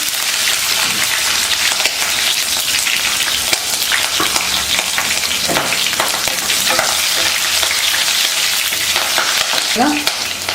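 Green chillies and garlic hit hot oil with a loud, continuous crackling sizzle, close and dense, broken by a few stirring scrapes and clinks for about ten seconds without talk.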